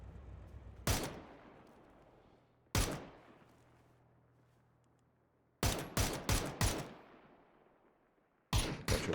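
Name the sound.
gunfire in the video game PUBG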